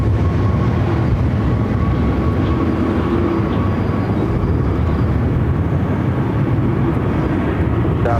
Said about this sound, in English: Another Frontier flight heading over to 25 right,